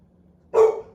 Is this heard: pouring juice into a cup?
no